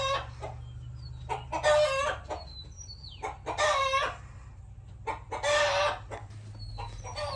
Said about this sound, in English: Sounds like somebody's doing their little egg song in there.